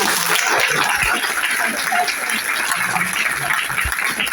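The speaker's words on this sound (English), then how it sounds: "So a round of applause for the brilliant Mary." Audience applause at a literary event in conversation with a former state pathologist, a steady dense wash of clapping filling the room for a few seconds with faint voices underneath.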